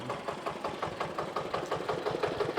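A micro tractor, smaller than a mini tractor and used by farmers, runs its small engine close by with a quick, steady chugging pulse and a slightly uneven knock, and no one speaks.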